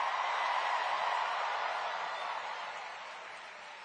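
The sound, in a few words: rally crowd applause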